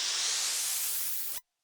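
A dense white-noise whoosh, bright and steady, the noise layer of a synthesized riser made in MSoundFactory, swells briefly and then cuts off abruptly into silence after about a second and a half.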